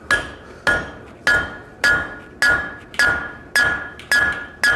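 Hammer blows upsetting a bar of metal at a blacksmith's forge, eight sharp ringing strikes in a steady rhythm, loud and close, each one decaying before the next.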